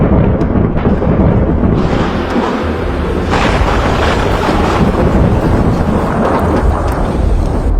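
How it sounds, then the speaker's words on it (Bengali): Heavy thunder rumbles loud and continuous through a rainy morning near a river camp, with light rain and gusting wind noise beneath the booming roll. "6 নাম্বার দিনটি শুরু হলো আমাদের ভয়ানক বজ্রপাত এবং রিমিঝিমি বৃষ্টির মধ্য দিয়ে"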